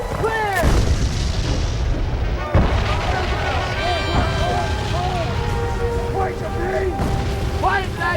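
A re-enactment of the 1814 British bombardment of Fort McHenry brings booming artillery fire and explosions, mixed with whistling and shrieking sounds. Dramatic voices speak over the continuous, loud barrage.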